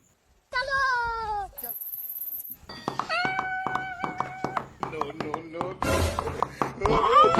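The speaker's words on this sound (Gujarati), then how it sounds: "એ બિલાડી" A cat gives a drawn-out meow up close, followed by clattering, thumps and other voices in a busy room.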